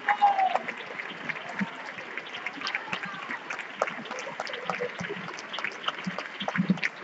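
An audience applauds at a tribute evening honouring a musician for 50 years in the municipal band of Estepa. The clapping is moderate and steady with sharp individual claps, and voices are heard within it.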